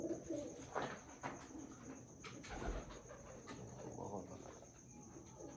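Breeder pigeons coo softly in low rolling calls amid a faint outdoor bed of insect chirps and a steady high whine, quiet and close, without speech.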